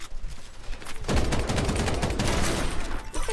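Rapid gunfire from a character's gun in a video game, quieter at first and then a loud burst of quick repeating shots that carries on to the end, with no talk.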